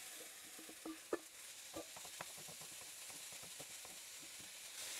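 Vegetables stirred into roast beef fried rice sizzle faintly in a pan, with scattered scraping clicks of a utensil against the surface over a steady low hiss.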